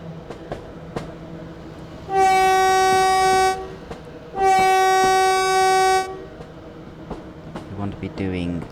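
A train in the Train Sim World 5 video game slows toward a level crossing and sounds two long, loud horn blasts about a second apart, over a low rolling rumble and faint clicks.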